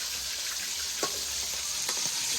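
Climbing perch fish frying crisp in hot oil, a close, continuous sizzle with a few sharper pops and spatters.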